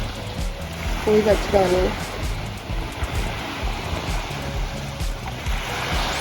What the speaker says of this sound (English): Here we have amazing waves, crystal clear blue water.